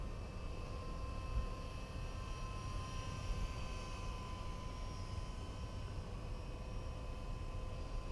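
A Blade SRX200 radio-controlled helicopter flies steadily at an airfield, its rotor and motor giving a constant, even whine with a steady buzzing hum throughout, with no one speaking.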